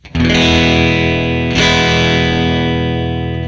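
A guitar runs through a Behringer UV300 vibrato pedal with depth at minimum, a loud sustained strum followed by a second one, the pitch staying nearly steady with barely any wobble.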